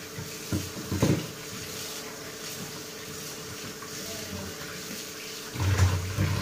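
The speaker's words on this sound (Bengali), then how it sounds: "চলো আগে মাছটা ধুয়ে নি ভালো করে" Fish being rinsed under running tap water at a home sink, a steady close stream with heavier splashing bursts near the start and again at the end, no talking.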